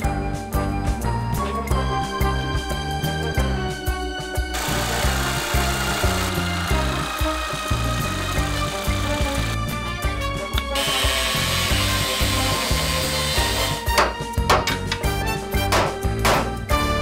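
A power tool cuts the top off a part during a Series 1 Land Rover restoration, giving a loud, continuous grinding and rasping whine that rises and falls between bursts of clanking metal.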